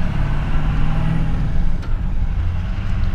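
A 2001 Ford F250 with a 7.3 Power Stroke diesel rolls slowly around the block in first gear, a steady loud low engine rumble close by, with a brief hiss partway through.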